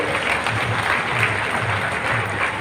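Crowd applause at an outdoor political rally welcoming road minister Nitin Gadkari, a steady dense wash of clapping with a low murmur of voices underneath, sustained at an even level throughout.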